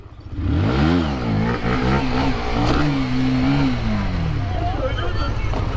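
A Honda CBR125 motorcycle revs hard at a school during a wheelie, its engine pitch climbing and falling in repeated sweeps, loud and close, with possible voices underneath.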